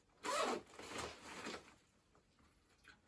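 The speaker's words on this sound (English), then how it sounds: "This zipper is just an access to the main compartment" Main compartment zipper on a Mammut Ducan Spine 28-35L hiking backpack pulled open in a few quick rasping strokes, close and clear, then fading to near quiet.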